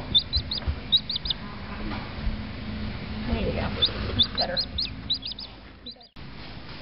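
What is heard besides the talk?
baby chicks chirping after hatching in an incubator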